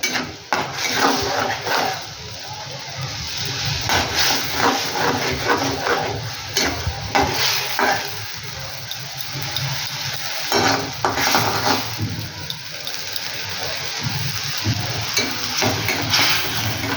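Homemade Schezwan sauce fries in oil and is stirred in a pan, a continuous rough sizzle mixed with scraping and clattering, plus scattered background noises that may include a dog.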